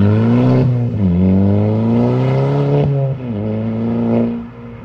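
A Volkswagen Scirocco R engine revs hard up close, a loud, throaty growl rising in pitch, dropping briefly between pushes, then climbing again across several pulls of the throttle.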